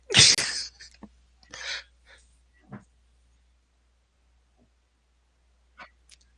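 A loud, sudden sneeze close by, followed by a few faint breaths and small sounds, then near silence.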